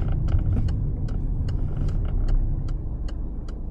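A car in a French driving test slows for a stop sign and brakes fairly firmly, its engine rumbling steadily up close with light ticking and clicking sounds from inside the cabin.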